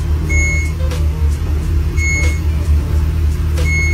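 A Ferrari sports car sounding its reversing warning, a steady run of evenly spaced electronic beeps repeating every second or so over a low engine and cabin hum, with no talking.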